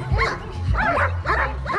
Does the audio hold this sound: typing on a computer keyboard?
no